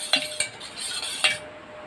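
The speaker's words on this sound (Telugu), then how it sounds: "ఫస్ట్ 2 ఎగ్స్ని స్మాష్ చేసేసుకోండి." Two eggs beaten in a bowl for a bread omelette, with a few distinct clinks of utensil against the bowl spaced through a short, quiet stretch and no voices.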